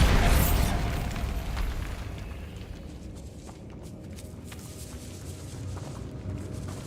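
Bombarda blasting spell detonating in the Hogwarts Legacy game inside a decayed catacomb: a loud, sharp burst at the start that fades into a long rumbling, crumbling tail of debris and low reverberant noise.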